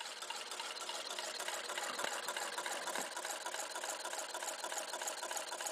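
A Newman motor spins a fan at about 200 RPM, making a faint, steady, even whir and hum with no talking.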